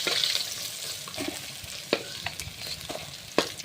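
A steady, soft sizzle of fish frying in oil, broken by occasional clicks and scrapes of stirring.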